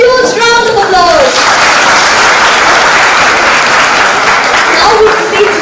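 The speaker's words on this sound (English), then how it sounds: "Dear audience, please give our performers a huge round of applause." An audience at a convent college event in Nainital gives performers a loud round of applause. Sustained clapping fills the whole stretch, with a brief electronic-sounding tone at the start and near the end.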